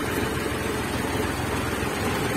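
A multicab engine with a fresh overhaul and a newly replaced alternator runs quietly, giving a steady, even low hum that stays constant with no voices.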